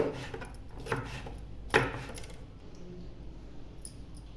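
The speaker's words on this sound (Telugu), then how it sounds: "ఇలా పొడవుగా సన్నగా కట్ చేసుకోవాలి" Knife slicing a capsicum into long thin strips on a board, a few separate sharp cutting taps followed by quieter handling sounds.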